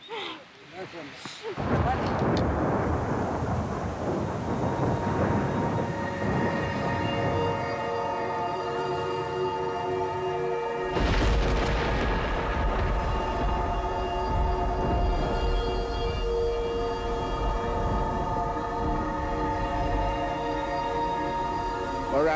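Thunder from a wet-season storm at Pormpuraaw rumbles long and loud, a deep rolling roar that swells again partway through and carries on without a break.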